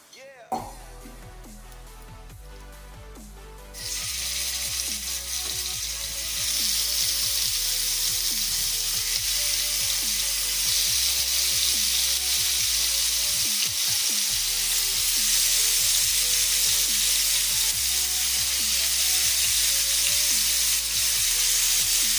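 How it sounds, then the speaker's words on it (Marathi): Marinated tandoori chicken fries in ghee in a pan. A few seconds of quiet lead into a loud, close, continuous sizzle that builds and then holds steady, with a faint tonal hum underneath. "आता मी हे फ्राय करूया की."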